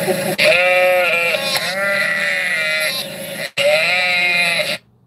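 A sheep bleats loudly and close, a long wavering call, then after a brief break a second bleat that cuts off abruptly.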